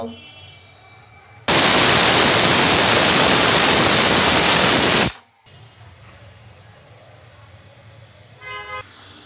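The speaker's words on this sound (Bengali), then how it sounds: "প্রেসার কুকারে আমি ঢাকনা লাগিয়ে দিয়েছি। এখন আমি জাস্ট 3টা সিটি দিলেই জালটাকে আমি আবার নিভাই দিব" A pressure cooker, lidded and cooking halim, lets out one loud, harsh, steady blast of steam lasting several seconds before cutting off sharply, with quieter kitchen background before and after.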